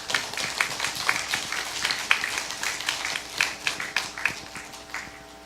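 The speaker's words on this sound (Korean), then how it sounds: "내 말이 맞으면 박수를 한번 쳐." Audience clapping at a Buddhist dharma talk in a temple hall, a loose scattering of claps building into brief, moderately loud applause over several seconds.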